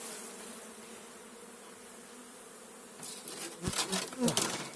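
Steady humming buzz of many honey bees, then a few sharp knocking bursts as the bees are shaken off a hive frame, buzzing louder.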